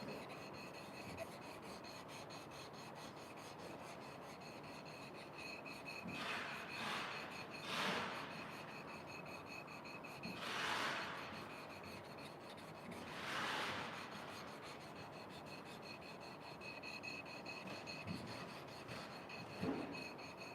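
Sandpaper is worked by hand across a wooden desk top in forward and backward strokes, making soft, quiet rasping that swells into several distinct scratchy passes, alone with no talking.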